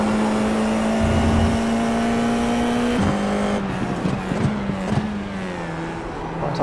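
A Formula IR-04 race car in iRacing braking late into a corner at Laguna Seca, its loud, high engine note holding steady, then dropping sharply through downshifts with stuttering blips and a brief tire squeal, close and alone.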